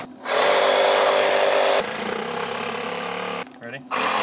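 A Sawzall reciprocating saw cuts through a pig carcass along the spine, a loud, close buzzing that runs in two bursts with a short pause between them, and speech is faintly present.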